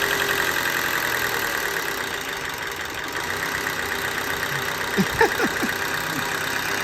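A car engine idles steadily nearby in a low, even hum, with a few faint squeaks and ticks over it near the end and no talk.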